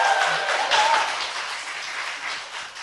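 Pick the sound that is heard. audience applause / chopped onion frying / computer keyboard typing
audience applause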